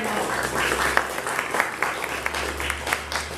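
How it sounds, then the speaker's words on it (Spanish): A crowd claps in sustained applause at the opening of a history congress, dense and lively throughout. "va a dar un buen aplauso para que ese hombre se sienta bien"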